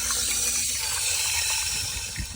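Water from a hose rushes steadily through a 1980 Fiat Spider 2000 engine, flushing out old coolant, a continuous loud splashing flow close by, with no talk over it.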